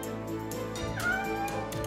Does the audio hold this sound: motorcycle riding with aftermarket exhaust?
no